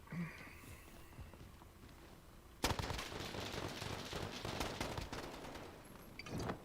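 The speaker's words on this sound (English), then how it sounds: "It's a lot of gunfire." Dense, rapid bursts of video game gunfire break out suddenly after a quieter stretch and keep rattling steadily, sounding like a busy firefight close by.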